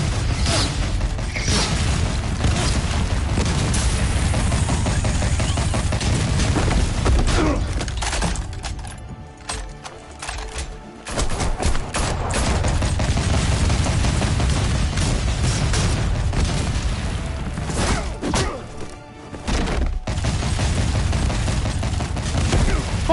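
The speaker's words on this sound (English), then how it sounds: "Fucking heavy machine gun, goddamn!" Sustained Tommy gun and heavy machine gun fire in Telltale's Batman game, a loud, dense, continuous rattle of shots with mechanical clatter, dropping briefly twice before resuming at full intensity.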